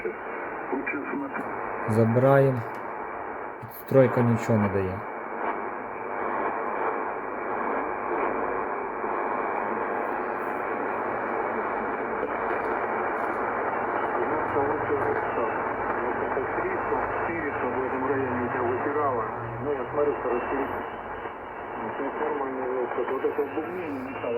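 Radio reception through a homemade magnetic loop antenna, with an outdoor antenna by the window also in use: a steady hissing broadcast signal with a voice running through it fills the whole stretch, briefly broken early by louder bursts.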